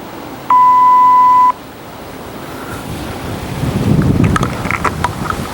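A single clean electronic sync tone sounds for about one second, loud and steady, followed by outdoor wind buffeting and rolling surf-like noise.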